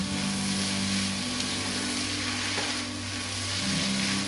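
Spices stirred into chicken spring roll filling in a hot pan. A continuous close sizzle carries the faint scrape of stirring over a steady low hum, with no one speaking.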